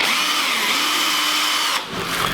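A drill with a steel bit bores a pilot hole in wood, whining steadily and loudly up close, then dipping briefly near the end before resuming.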